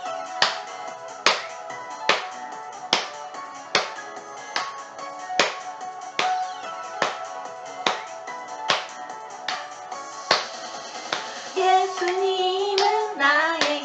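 Children clap along in a steady beat to a worship song at an elementary Sunday service, sharp regular hand claps over music, with the song's melody becoming more prominent near the end.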